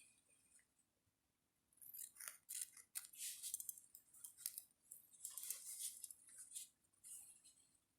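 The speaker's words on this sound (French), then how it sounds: "je viens couper le surplus" Scissors snip off excess material while decorating small jars, a series of quiet, close, crisp cutting bursts in irregular rhythm, with short pauses between strokes and no talk.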